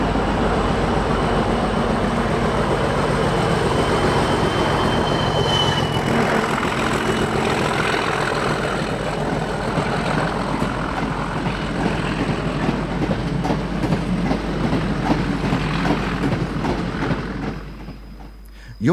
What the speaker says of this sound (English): The smaller Class 37s were adopted as BR standard mid-powered diesels and may be seen at York on freight such as this engineer's train.